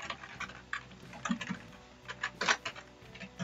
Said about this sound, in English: simple type your telephone number